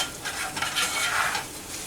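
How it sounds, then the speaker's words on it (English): Garlic and oil sizzle loudly in a hot pan while a utensil stirs it, a close, continuous frying hiss with brief scraping surges and no talk. "And we'll just stir that in. Literally just going to let that cook about a minute,"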